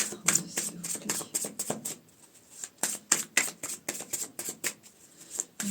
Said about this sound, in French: je vais tirer les cartes